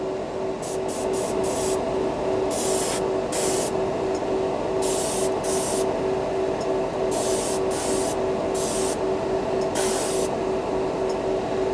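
Harbor Freight's cheap airbrush and compressor combo spraying paint onto a piece of plastic: repeated short hissing bursts of air spray in an uneven on-off rhythm, close and clear over a constant compressor hum.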